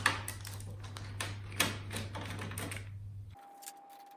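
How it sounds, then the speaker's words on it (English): An old keyboard is pried and lifted out of a Commodore 128, giving a run of close plastic clicks and rattles over a low hum, then a short quieter stretch with a faint tone. "So I just remove the old keyboard first."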